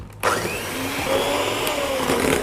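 An electric hand mixer whisks eggs, vanilla and sugar for brownie batter, kicking on abruptly with a loud, steady whirring drone that wavers slightly in pitch as the beaters move through the bowl.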